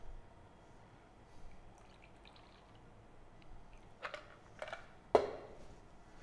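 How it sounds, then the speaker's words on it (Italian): A chilled vermouth cocktail strained into a coupe: quiet room tone, then a few short liquid splashes and trickles building to one sharp close splash near the end. "andiamo a versare il nostro drink con lo strainer."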